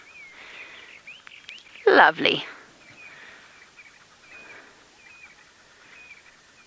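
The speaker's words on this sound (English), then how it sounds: "Oh, brown crown Tchagra." A brown-crowned tchagra calls at dawn in the African bush, a rolling whistled phrase repeated faintly in the distance under a quiet morning chorus, with a burst of nearby talk in the middle.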